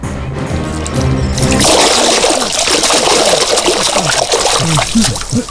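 Water is poured out and splashes onto sleeping men, a sustained near gush of splattering liquid that begins after a brief stretch of low background sound.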